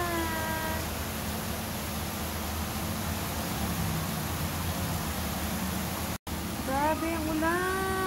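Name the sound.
heavy rain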